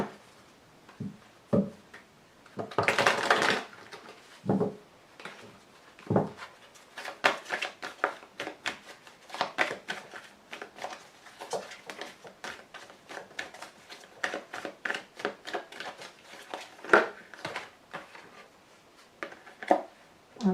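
Lenormand oracle cards handled and drawn from the deck on a table, heard as close clicks, taps and a brief shuffle-like rustle in a quiet room with no talking.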